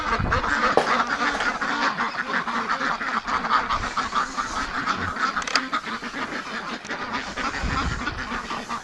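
A flock of breeding ducks quacks steadily and busily near a gate, many overlapping calls with a few honking notes, loud and close, continuing without pause for the whole stretch.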